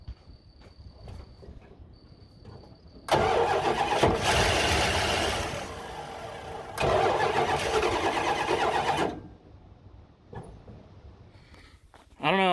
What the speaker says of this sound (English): it was running for a second. It didn't like me hitting the starter while it was trying to run